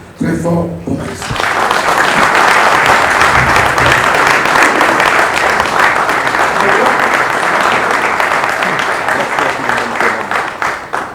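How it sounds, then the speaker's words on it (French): After a brief spoken moment, a large audience at a Congolese rumba release celebration breaks into loud, sustained applause that holds steady and full for the remaining stretch. "je souhaite vraiment, vivement, beaucoup plus d'applaudissements encore pour lui, très fort pour Maestro."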